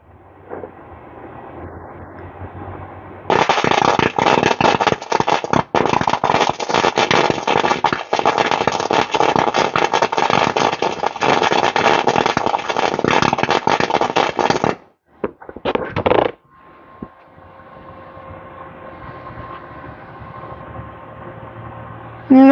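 Welding on a Honda Odyssey FL250 frame: a loud, close, continuous crackling buzz lasting about eleven seconds, then short bursts before stopping, with quieter hum before and after.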